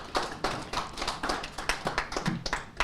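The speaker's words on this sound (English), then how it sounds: "give them a round of applause." Claps from a small group at an agricultural enterprise event, sparse and uneven, with distinct hand strikes rather than a full roar, fairly close.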